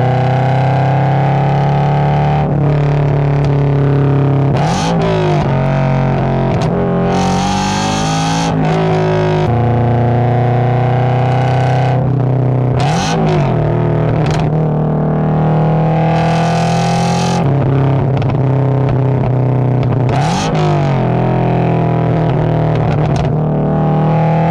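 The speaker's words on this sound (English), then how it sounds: "it actually will blip the gas automatically up for you. So when you downshift into that lower gear, you don't have to worry about using the gas as well" A tuned Toyota GR86 engine, heard from inside the car while driving, auto-blips the throttle on several downshifts. Loud steady engine drone is broken by short sharp revving spikes that recur throughout.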